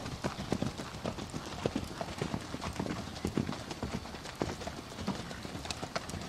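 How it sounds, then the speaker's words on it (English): A horse ridden in a circle in an outdoor riding session makes soft, rhythmic clip-clop hoofbeats against a steady background hiss, moderately distant and faint. "Ride a circle, Emily."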